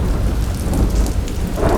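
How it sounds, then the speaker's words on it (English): A roaring thunderstorm with heavy rain pouring down and deep thunder rumbling, loud and constant throughout. "The roar of the rain threatened to drive her mad."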